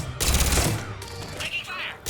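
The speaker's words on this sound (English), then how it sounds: "Taking fire." Burst of rapid automatic gunfire in the video game Mass Effect 3, a loud close fusillade followed by scattered fainter shots and in-game radio voices speaking over the action.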